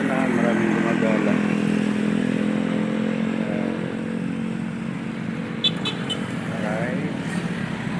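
Steady road traffic hums close by as cars and motorcycles pass on a busy street at the evening commute, a continuous engine drone with brief clatter, while people talk quietly nearby.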